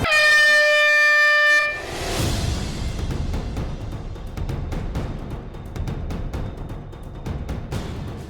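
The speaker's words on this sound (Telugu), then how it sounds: "హార్న్తో స్టార్ట్ చేయాలి, హార్న్ అంటే ఎండ్ అయిపోవాలి" A loud air horn blares steadily for under two seconds to cue the start of a dance shot on a televised dance show, then gives way to a dense wash of music and crowd noise.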